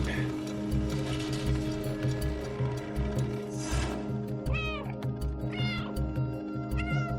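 A cat in the video game Stray meows several times over a busy bed of game ambience and mechanical clicking, with a person talking during the clip.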